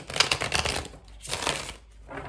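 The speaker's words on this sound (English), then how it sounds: "we will give the deck a few more shuffles" Quick riffling bursts of a tarot deck being shuffled, two or three close, crisp flurries separated by brief pauses.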